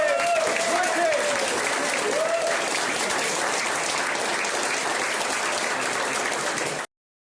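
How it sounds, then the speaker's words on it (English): Sustained applause from the audience at an evening book launch event, dense and steady throughout, with a brief whistle-like tone early on, then cutting off abruptly near the end. "Can we give them a huge round of applause?"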